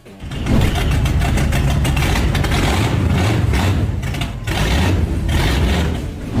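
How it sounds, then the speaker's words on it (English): Chevrolet Camaro Z28 muscle car engine starts and settles into a deep, loud, lumpy idle, with a few throaty surges throughout and no voices. "Chevrolet Camaro Z28, Mustang's ultimate rival, built with racing DNA."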